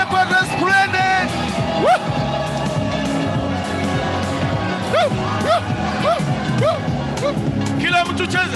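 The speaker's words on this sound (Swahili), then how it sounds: "Shangwe vigelegele kwa Resplendent." A graduation crowd cheering with rising high-pitched ululations, several bursts of trilling cries over a loud babble of voices and talking in a large gathering.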